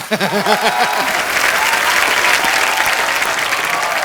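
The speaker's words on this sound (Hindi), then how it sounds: "जोरदार तालियां।" Studio audience on The Kapil Sharma Show, a Hindi comedy show, breaks into loud, sustained applause, with a brief musical or vocal tone at the start before the clapping swells and continues strongly.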